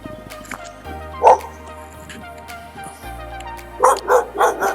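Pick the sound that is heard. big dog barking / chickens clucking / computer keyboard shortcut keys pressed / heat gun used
big dog barking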